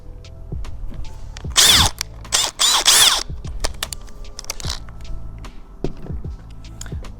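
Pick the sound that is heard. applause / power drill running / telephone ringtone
power drill running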